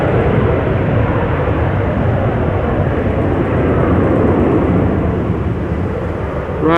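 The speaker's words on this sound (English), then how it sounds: "777-200 going to Washington, KLM flight 651, 777-200 ER. It's pulling up already." A KLM Boeing 777-200ER jet taking off from Amsterdam Schiphol for Washington, a loud, close, continuous engine roar holding steady for several seconds with no voices.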